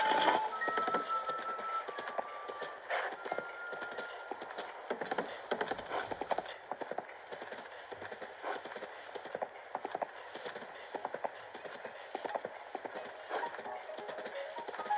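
Horse hooves clip-clop steadily in a video game as a rider walks a horse away from the stables, a brisk, even rhythm of hoof taps close by with no talk.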